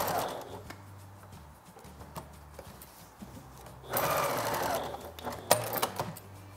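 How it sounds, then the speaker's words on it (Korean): A sewing machine stitches the strap of a wildflower cotton waist apron in short runs, with a faint rapid whir close by and a louder burst of stitching near the end. "디귿자 형태로 한 번 더 봉제해서 이제 끈을 마무리할 거예요."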